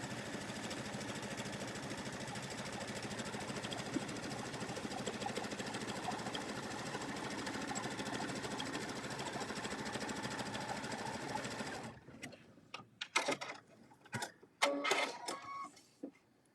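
A sewing machine running twin needles with two threads stitches out a pattern in one long, steady mechanical chatter for about twelve seconds, then stops, leaving scattered clicks and handling noises.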